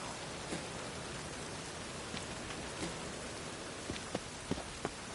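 Steady rain in The Witcher video game hisses throughout, with a few louder drips tapping nearby toward the end, and no voices.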